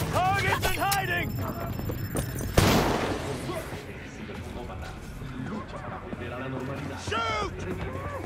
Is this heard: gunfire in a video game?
yes